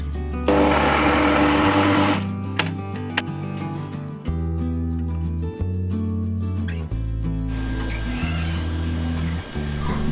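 A blender whirs loudly and continuously blending cooked raw mango pieces for jam, its motor pitch shifting in steps as the load changes, with brief rattling and no voices.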